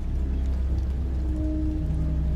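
Rain drumming on the zinc roof of a gas station, a dense, even patter with a low rumble beneath it, steady and close throughout, alone with no voices.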